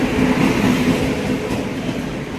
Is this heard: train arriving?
yes